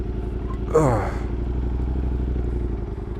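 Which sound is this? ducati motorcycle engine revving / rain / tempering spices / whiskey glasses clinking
ducati motorcycle engine revving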